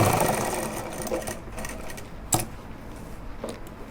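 A sewing machine runs steadily, stitching the pocket onto a pair of pajamas, with a continuous mechanical whir, a sharp click near the middle and slight variations in speed; no voices.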